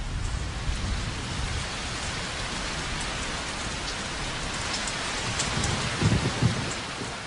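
Heavy rain pours down in a Sahara thunderstorm, a dense, loud, constant hiss of drops, with a low rumble of thunder rising near the end.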